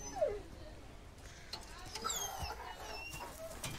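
A dog whimpers in the Resident Evil 4 Remake video game, a short high whine at the start followed by faint whimpers amid game ambience while a person talks throughout.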